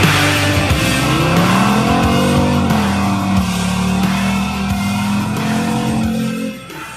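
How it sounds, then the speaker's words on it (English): A car doing burnouts at a wedding, its engine revving hard under a loud, continuous tire squeal that wavers in pitch, close and intense for several seconds before easing off at the end. "That car sound was from the Vault Stevens Wedding Burnouts."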